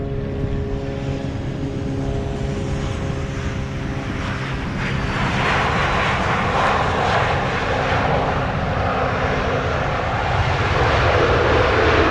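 United Airlines jet landing at Montego Bay airport in Jamaica, a steady loud engine roar that swells and brightens as the aircraft approaches and passes close by, with no voices.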